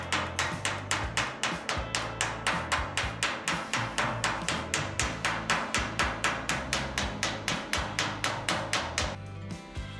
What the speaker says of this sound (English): I've got my dolly behind and I'm hammering. I'm not hitting hard, I'm hitting multiple soft blows